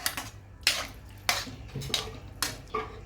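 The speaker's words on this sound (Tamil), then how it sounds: "அடுத்து அழகாக கிண்டி விடணும்." A spoon scrapes and knocks against a pan as chickpea curry is stirred, five or six soft metallic clinks at a slow, even pace, faint and close, with no voices.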